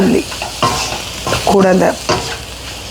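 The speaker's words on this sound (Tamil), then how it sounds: "உள்ளி இப்படி வதங்க வேணும்" Garlic sautés in hot oil in a pan, with a steady sizzle broken by repeated scraping stirs of a utensil close by and a brief spoken phrase.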